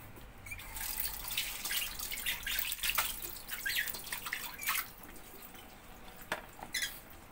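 Running water rinsing fresh malunggay leaves, with soft irregular splashes and trickles at low volume, heard alone without speech.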